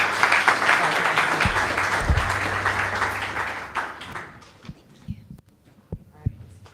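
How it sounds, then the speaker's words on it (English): A meetup crowd in San Francisco applauds, a dense round of clapping that fades over about four seconds, leaving a few scattered claps and low thumps in a quieter room. "Big round of applause for Kayla Love and Ariana."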